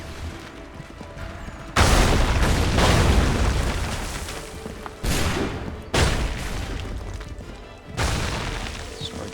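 Loud, heavy explosions from the Receiver 2 video game boom several times in succession, each blast rumbling and crackling before the next one hits, with no talking.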